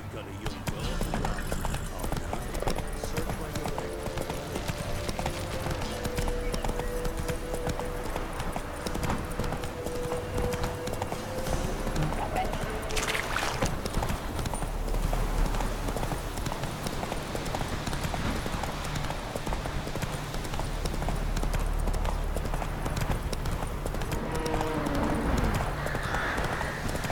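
Hoofbeats of a horse galloping in The Witcher 3 video game, a steady rapid clip-clop running throughout at close range, with game music and ambience underneath.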